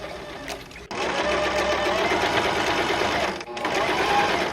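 Sewing machine stitching a thrifted blouse, a fast steady whirring chatter running almost nonstop with two brief pauses, close and loud, with someone talking over it.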